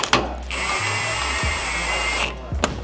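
A power tool whirs steadily for a couple of seconds while the lower pivots of a Toyota Tacoma long-travel pivot kit are bolted on, with close metallic clunks before and after the run.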